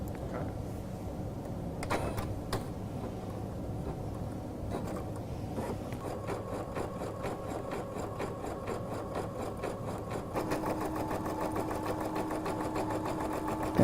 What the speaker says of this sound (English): I can just turn on the button and have it start embroidering.